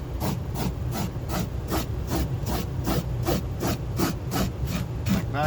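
A blade scrapes over worn car carpet in quick, regular strokes, each one a short rasping pass close by, repeating at a steady rhythm.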